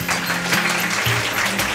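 A college common-room audience at a quiz show applauds a team with steady, fairly close clapping from many hands, while a sustained tone hums beneath it.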